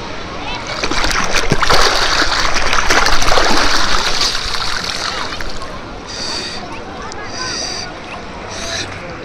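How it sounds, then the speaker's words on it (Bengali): A river dip at Gangasagar brings close, broad splashing and churning water, loudest early on and then easing. Several people talk over it throughout. "চলো এখন যাই, একটা ডুব দিয়ে আসি।"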